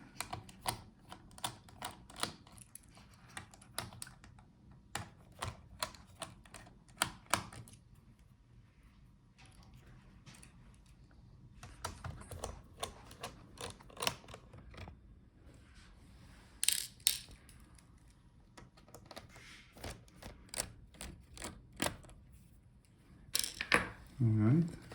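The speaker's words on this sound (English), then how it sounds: "Now let's unscrew all the screws holding the motherboard." Screws are backed out of an Asus ROG Strix G512 laptop motherboard with a small hand screwdriver, giving a long series of crisp, close ratcheting clicks. The clicks come in bursts separated by short quiet pauses.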